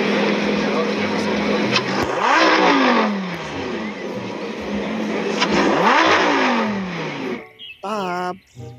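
A red toy race car gives a loud, sustained engine-like revving roar with two rising sweeps, cutting off near the end to brief warbling tones.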